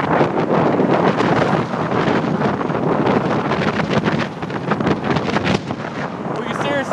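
Strong wind roars across the microphone as riders travel along the road, a loud, continuous buffeting rush that fills the whole stretch without a break.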